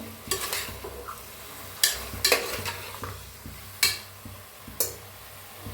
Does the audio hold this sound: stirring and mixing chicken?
yes